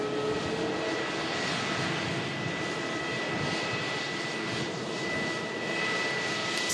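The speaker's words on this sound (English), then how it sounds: "Brake fans are really loud on this." Brake fans on a parked airliner whir loudly at Manchester Airport, a constant dense roar with a faint steady tonal whine running through it, unbroken throughout.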